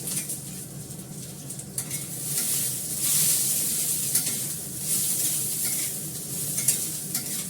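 Eggplant frying in a pan in a home kitchen: a continuous close sizzle of hot oil with swells of intensity and occasional light scraping from stirring, and no voices.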